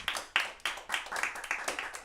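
A short burst of clapping hands at an online comedy open mic, a few sharp irregular claps close by, like a small audience applauding.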